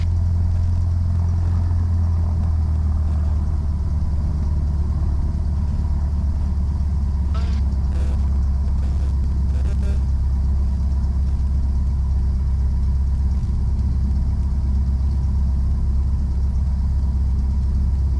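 A light aircraft engine drones with a deep, constant rumble while taxiing at Jandakot, loud and close with faint higher clicks.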